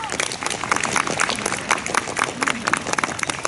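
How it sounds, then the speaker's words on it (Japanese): An outdoor crowd gives lively, uneven clapping at a morning samurai-costume performance by the Nagoya Omotenashi Busho-tai in Nagoya. The applause is steady for several seconds, with sharp individual claps standing out and faint voices beneath. "この者たちにも大きな拍手じゃ"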